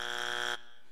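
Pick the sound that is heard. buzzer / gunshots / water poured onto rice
buzzer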